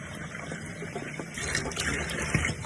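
Water poured into a cooking pot holding ugu leaves and salt for a vegetable stew, a steady splashing gush that runs for a few seconds.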